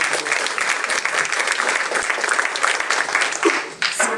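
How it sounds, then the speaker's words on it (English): A crowd at a school ribbon-cutting ceremony gives a full round of applause for elected officials, a loud, continuous wash of clapping at an even level with a brief rustle near the end. "Let's give them a round of applause."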